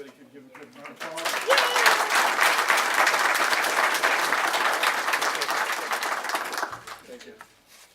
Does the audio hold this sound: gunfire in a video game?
no